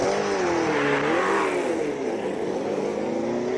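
Nissan 350Z hill-climb race car fitted with an LS V8, its engine droning loud and close at high revs with smoothly rising and falling harmonics throughout a mountain hill-climb run.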